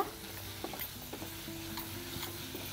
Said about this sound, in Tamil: நல்லா கலந்துக்கோங்க கொஞ்சமாக இன்னும் கொஞ்சோண்டு நெய்